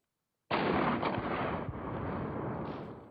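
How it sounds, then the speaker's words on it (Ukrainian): A sudden loud burst of rapid machine gun fire from the Droid TW-12.7 robotic ground drone on a test range erupts after a half-second of silence, continuing as a dense rattling roar that slowly tapers. "Прицільний вогонь із кулемета, але стріляє не людина, а робот."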